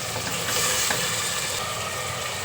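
A tempering fries in a pan with salt added while avarekalu pulao is being made, producing a steady, close sizzle and hiss with a low rumble beneath and no talk.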